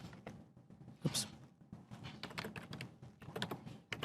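A password is typed on a computer keyboard in quick, uneven bursts of key clicks, fairly close and fairly loud, with one sharper louder tap early on and no speech.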